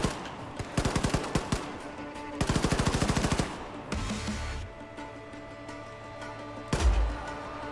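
Rapid bursts of automatic gunfire in Wolfenstein II: The New Colossus rattle out in several volleys, loud and close, with heavier single blasts and booming impacts between them.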